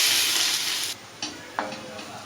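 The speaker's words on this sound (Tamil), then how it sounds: "அதையும் கிறிஸ்பாக நல்லா வறுத்து எடுத்துக்கலாம்" Garlic fries crisp in a pan: a loud, close sizzle hisses for under a second, then drops away, leaving a few light scrapes and taps.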